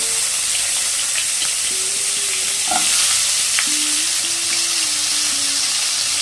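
Two large potatoes cut into long slices fry in hot oil in a pan with a loud, constant close sizzle and hiss, broken by a few soft clinks from stirring.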